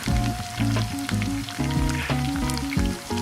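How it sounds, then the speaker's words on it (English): Ginger and garlic sizzle in hot oil in a pan with a loud, steady, crackling fry that continues throughout. "Now put the oil in a pan and add some ginger and garlic."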